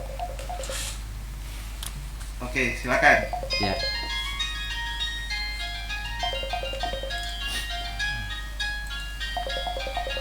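On a live radio talk show, a phone call is placed: a short burst of dialing tones, then steady electronic tones over a constant low hum, with a presenter speaking briefly.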